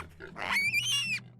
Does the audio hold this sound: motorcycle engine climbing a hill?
no